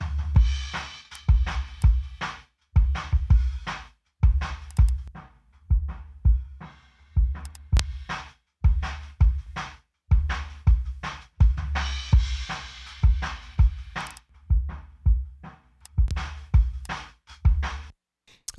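A kick drum captured by an outside mic thumps in a steady rhythm of about one hit a second, close and punchy, its tone changing as EQ is switched in and out.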